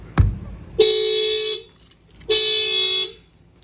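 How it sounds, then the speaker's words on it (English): A sharp thud of a tire being banged, then two long blasts of a 2020 Honda CR-V horn as its factory alarm triggers, each about a second, separated by a short pause. "that will set off the factory alarm"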